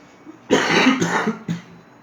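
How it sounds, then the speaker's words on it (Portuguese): A close cough fit: one long harsh cough followed by two shorter hacking bursts, with faint room noise between them and no talking. "peço perdão pela tosse"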